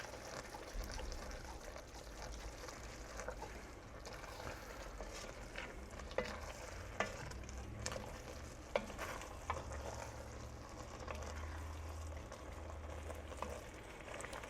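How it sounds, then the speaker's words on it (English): Onions stirred in a pot for French onion soup give a faint, continuous soft sizzle with scattered scraping strokes and a few sharper clicks of the spoon against the pot. "we're in a stirring stage because we want to start breaking it"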